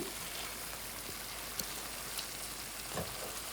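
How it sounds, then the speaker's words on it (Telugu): Masala eggplant (brinjal) fries uncovered over a high flame, making a soft, steady sizzle and crackle with a few faint pops. "ఇప్పుడు కాసేపు హై ఫ్లేమ్లో పెట్టి మూత పెట్టకుండా కుక్ చేయండి"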